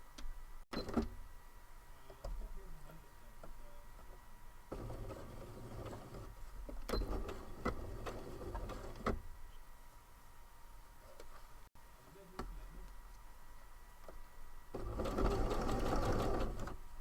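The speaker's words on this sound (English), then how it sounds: "I'm gonna go a little bit slower on the stitching speed" A sewing machine stitches a knit sweater in a run of bursts, its steady motorized whir starting and stopping with pauses between, fairly close and with no talk over it.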